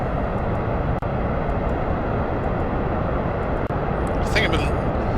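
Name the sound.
rocket engine throttling up in Kerbal Space Program video game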